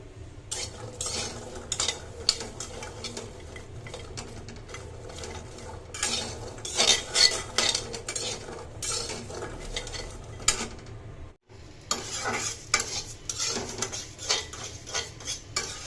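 Coarse rice dry-roasting in a pan, stirred with a utensil that scrapes and rattles repeatedly in a steady, close rhythm, with a brief pause near the end.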